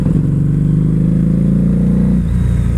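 A Harley-Davidson Night Rod Special V-Rod engine revs on a test ride, a loud, close, throbbing mid-pitched drone that holds steady and then drops off near the end.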